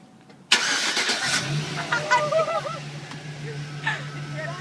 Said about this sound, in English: why'd you start the car?